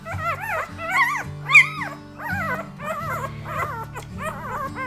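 Puppies whimpering and yipping while being handled, a run of close, high, wavering whines in quick succession with brief pauses, loud and clear with some low background hum.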